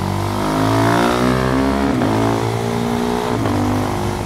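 KTM Duke 390 motorcycle with Dunlop Sportsmart TT tyres and a quickshifter accelerating through a hairpin turn, its engine note loud and close, rising in pitch with brief gear-change dips.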